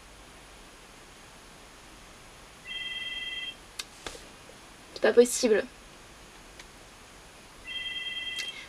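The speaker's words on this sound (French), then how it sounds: "Ça fait 3 fois que le téléphone sonne." Telephone ringing twice indoors, each ring a steady electronic trill lasting about a second, separated by a pause; a voice speaks briefly between the rings.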